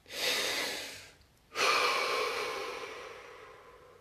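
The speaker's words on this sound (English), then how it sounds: "Deep breath." Two deep, slow breaths during a guided relaxation exercise, close and clear: a long airy inhale, a brief pause, then a long fading exhale.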